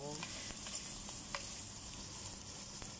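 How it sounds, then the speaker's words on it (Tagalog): Dried bisugo fish sizzles steadily in coconut milk with jackfruit, a continuous close frying hiss with a few soft stirring clicks and no talk. "meron tayong daing na bisugo. Ilalagay natin sa ating gata na langka"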